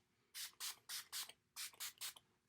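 Wet n Wild primer spray misted onto a face, about eight short, close, hissing spritzes in two quick bursts with a brief pause between them, no talking.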